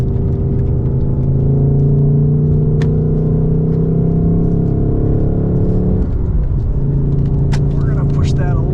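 A 2024 Ford Mustang Dark Horse with a Tremec manual gearbox drones loudly from the cabin on a race track, a steady engine rumble that dips and shifts pitch partway through as the car changes gear.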